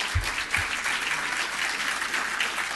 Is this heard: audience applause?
yes